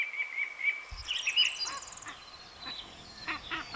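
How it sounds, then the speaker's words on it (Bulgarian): Song thrush singing in the Vratsa karst reserve, a series of bright, repeated whistled phrases and chirps, moderately close, over faint rustling background with a brief low thump near the start. "Близките емигранти, като пойният дрозд, пък вече шумно оповестяват с песен заетите от тях гнездови територии."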